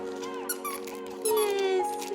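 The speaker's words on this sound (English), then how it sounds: "this one's squeaky squeak" A squeaky dog toy gives high, pitched squeaks in quick bursts, close and clear, with a longer, louder squeak near the end; no talking.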